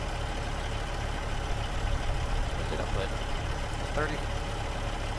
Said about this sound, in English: Changed up the engine a little bit, decided we could use a different sound.